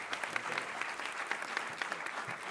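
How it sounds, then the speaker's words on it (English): A steady, even round of applause from a startup conference audience, many hands clapping together at moderate distance without letting up. "So give them a round of applause"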